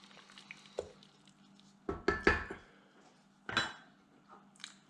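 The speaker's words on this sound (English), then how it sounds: "Give it a quick stir." Cornchaff, a Nigerian corn dish, gets a quick stir in a pot: a few scattered metallic scrapes and clinks, a louder burst of three or four knocks midway, otherwise quiet and without talk.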